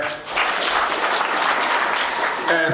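Applause from an audience at a thanksgiving gathering for young men of Mondlo, honouring those from Ward 17: dense, steady clapping throughout, fairly close and loud, briefly swelling after a soft start.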